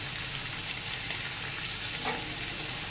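Small diced potatoes with onion and salt fry in a pan, giving a steady, soft, even sizzle close by. One or two faint stirring clinks come through, and no one speaks.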